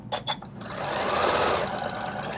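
A sewing machine runs steadily as it stitches fabric scraps, starting after a couple of short clicks and humming at a close, even pace with no talking.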